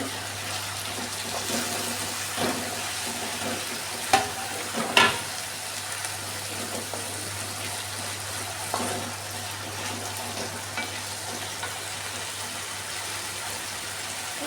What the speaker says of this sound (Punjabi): ਵਿੱਚ ਵਿੱਚ ਆਪਾਂ ਕੜਛੀ ਮਾਰਦੇ ਰਹਾਂਗੇ